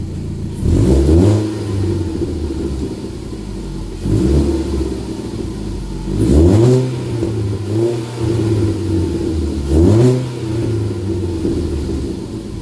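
A 2012 MK3 Ford Focus with an FX Works cold air intake and a loud aftermarket exhaust revs up close several times, each sharp rise falling back to a rumbling idle in between.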